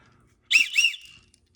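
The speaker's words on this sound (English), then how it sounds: "It has a whistle." A whistle built into a Muela Viking fixed-blade knife gives a single short, shrill blast, two quick warbling pulses run together, sounds close by and then stops.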